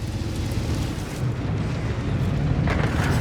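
A deep rumbling artillery blast in a tank video game, a sustained low boom rolling on for a few seconds with a brighter crack near the end, and no talking.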